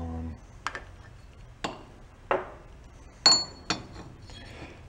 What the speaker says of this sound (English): And when you're hammering them in,